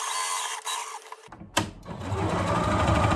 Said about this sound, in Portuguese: Então eu vou costurar aqui, ó, passando por cima, começar com retrocesso, margem de meio centímetro.